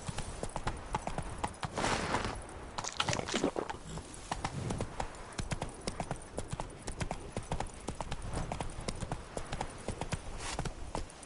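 Roach, the horse in The Witcher 3, gallops with a steady, loud clip-clop of hooves that runs the whole stretch, with brief snorts and a faint whinny mixed in.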